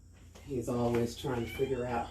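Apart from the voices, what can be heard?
cat meowing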